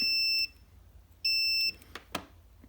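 Continuity tester checking a vintage Mopar semi-automatic transmission governor solenoid, two clear high electronic beeps about a second apart, each roughly half a second long, followed by a few soft clicks in a quiet room.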